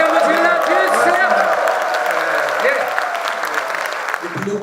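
A large audience claps and cheers continuously at a founding ceremony of a Korean blockchain business association, dense and loud throughout, with no pauses.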